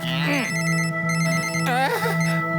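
A mobile phone in a cartoon rings with a repeating electronic tone pattern, loud and close, with a voice speaking over the ringing at moments.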